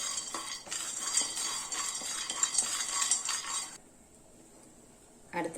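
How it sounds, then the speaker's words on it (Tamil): Peanuts dry roasting in a pan, with a scraping stir and light clinks of a utensil, close and fairly quiet, then a pause and a final scrape. "நம்ம நிலக்கடலை பருப்பை இதில் போட்டு வறுத்துக்கலாம்."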